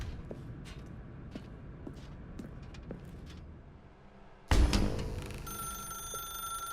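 Soft footsteps lead up to a telephone that suddenly starts ringing loudly and close by in The Stanley Parable Ultra Deluxe, its bright tone sustained to the end.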